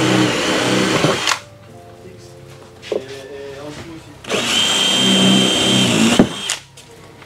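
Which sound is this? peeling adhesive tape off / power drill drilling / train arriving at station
power drill drilling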